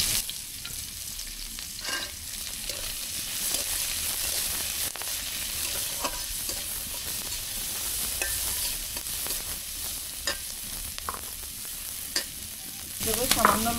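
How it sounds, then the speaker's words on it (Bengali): Fried brinjal sizzles in oil with chopped onion and green chili while a spoon stirs through it, a steady close frying hiss broken by occasional scraping strokes, no voices. "এবার ওই ভাজা বেগুনটাকে কুচানো পেঁয়াজ আর মরিচ দিয়ে ভেজে নেব।"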